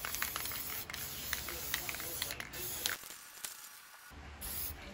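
Spray gun hissing paint onto a 1967 Pontiac Firebird in steady bursts up close, pausing briefly near the end before the spray resumes.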